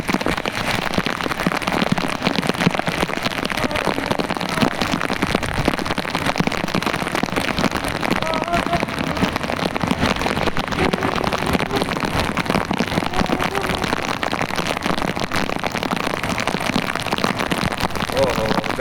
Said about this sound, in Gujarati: ગજબ વરસાદ છે.